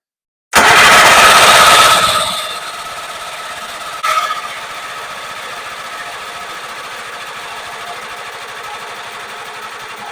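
A John Deere 400 snowmobile engine fitted with a Mikuni carburetor cranks and fires loudly after a moment of silence, then falls to a steady buzzing idle. There is a brief bump in the middle.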